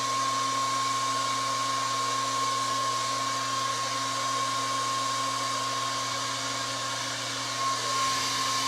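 A hair dryer runs steadily at close range, drying a thin layer of printmaking ink, its constant motor whine and airflow hum holding level throughout.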